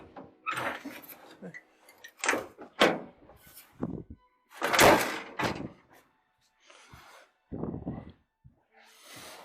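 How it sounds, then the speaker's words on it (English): A 1963 Chevrolet panel Suburban's sliding side door rumbles and clunks several times, opening and shutting with heavy thuds close by, separated by short quiet gaps. "This side door latches open and shuts."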